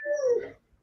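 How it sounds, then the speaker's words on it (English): A dog whimpers in a short, whiny cry that rises and fades over under a second, close and fairly clear with no talk over it. "A dog."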